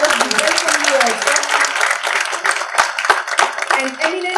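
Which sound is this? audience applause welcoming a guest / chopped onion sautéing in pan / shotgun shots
audience applause welcoming a guest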